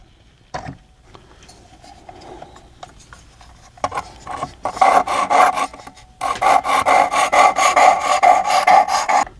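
A knife is sharpened by hand on the 320 grit side of a sharpening stone with very light pressure: a few scattered scrapes, then a steady run of quick, rhythmic rasping strokes, close and fairly loud, with no talking.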